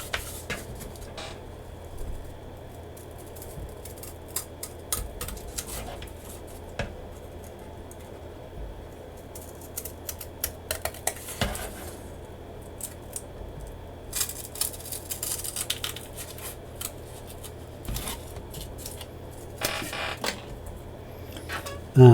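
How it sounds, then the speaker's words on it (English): Repeated crisp snipping of scissors cutting through paper, irregular short bursts over a low steady room hum, close by. "now I'll just cut it out with some scissors."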